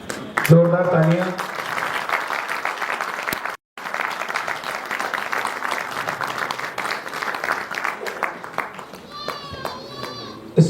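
Applause from the audience at a medical seminar held on a stage, steady clapping mixed with crowd noise and children's voices, with a brief break partway through and some speech-like sounds near the end.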